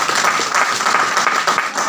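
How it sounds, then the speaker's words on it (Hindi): An audience applauds at a motivational seminar, a dense burst of clapping that stays loud and even for a couple of seconds with no talk over it. "एक बार तालियां बजाइए अपने लिए।"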